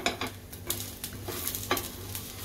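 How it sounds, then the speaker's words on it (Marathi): Ginger, garlic and spices sautéed in a pan, a low sizzle broken by a few quick spatula scrapes, close and fairly quiet with no voices. "आलं लसूण घालूया. एक मिनिट चांगलं परतून घ्यायचं आहे सगळे"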